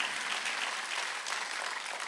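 Church congregation applauding during a Sunday worship sermon, a steady even wash of clapping from many hands that holds for the full two seconds with no voices over it.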